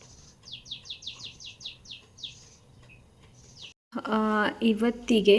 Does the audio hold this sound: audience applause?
no